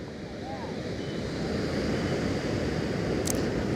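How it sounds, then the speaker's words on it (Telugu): Ocean waves wash onto the beach at Visakhapatnam under gusting wind, a steady, moderately faint surf hiss and rumble that builds slightly over a few seconds. "అలల శబ్దాలు, అలల గాలి"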